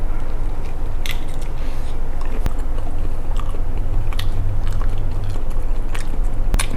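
Close, loud wet chewing and biting of a strawberry and raw shrimp salad, steady crunching and squishing mouth sounds with no talk.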